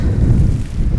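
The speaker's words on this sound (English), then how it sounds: "a bit windy today" Steady wind buffets the microphone with a loud, low rumble that continues throughout, at a carp fishing lake, Lindholme Lakes.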